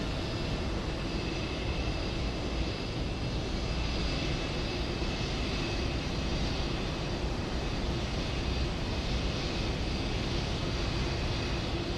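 Jet airliner roaring on a runway during takeoff, a loud steady broadband engine rumble and whine sustained without a break, heard from inside the aircraft.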